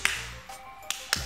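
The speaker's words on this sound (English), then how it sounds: "Double clap." Sharp hand claps in a clapping game, a few crisp separate hits spaced unevenly, close and fairly loud against a quiet room.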